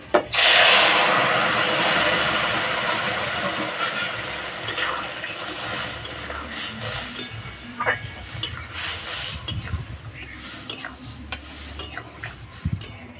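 Dried chillies, crushed garlic cloves and a boiled vegetable curry hit hot oil in a village kitchen, giving a loud sizzle that fades into steady frying, broken by scraping and clinking of a spoon against the pan.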